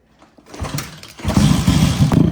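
A Delta motorcycle fitted with a YX160 engine cranks briefly after a near-silent pause, then catches and settles into a loud, throbbing, rapidly pulsing run close by.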